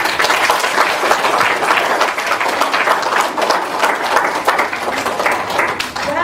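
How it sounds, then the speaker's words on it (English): Audience applauding an award winner at a ceremony, a dense, steady wash of many hands clapping throughout, loud and sustained with no talk over it. "So round of applause."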